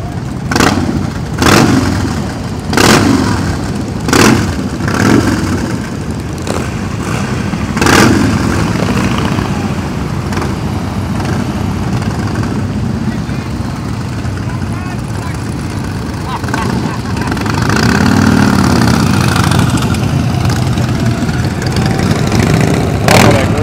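A custom motorcycle at a Thunder Beach bike rally revs in a series of sharp, evenly spaced bursts over a steady running engine, then settles into a rough, loud idle with occasional swells amid crowd noise and nearby voices.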